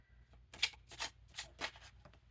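Tarot cards shuffled by hand in several quick riffling bursts, close and fairly quiet, with faint low hum underneath and no talking.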